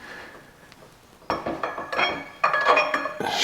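A Nissan Patrol rear axle is threaded into its housing during a rebuild, giving a few sharp, close metallic clanks and scraping rattles that start faint and grow louder in bursts, with no talking.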